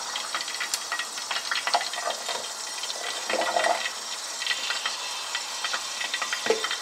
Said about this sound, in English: and fry until golden brown